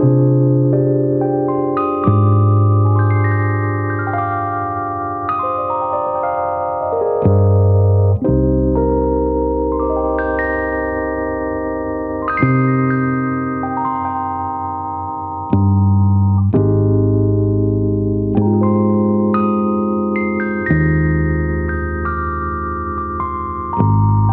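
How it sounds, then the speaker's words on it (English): A Rhodes electric piano and bass play a soul sample together, warm sustained chords changing every couple of seconds over a deep bass line, smooth and full without any talking. "So the Rhodes and the bass together sound like this."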